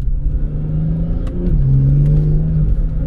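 A BMW M240i with an M Performance exhaust rumbles and revs up, the pitch rising then settling, with faint crackles and pops from the exhaust, loud and close.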